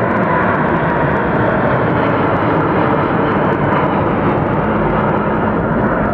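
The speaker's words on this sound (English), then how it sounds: "The magic of the Orient, getting that plane off the ground. I love the 747." A Boeing 747 airliner takes off at Hartsfield-Jackson Atlanta International Airport, its engines making a loud, continuous broadband roar that holds steady throughout, with no talking.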